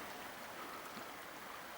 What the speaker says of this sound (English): It's a very easy flowing River Line just now.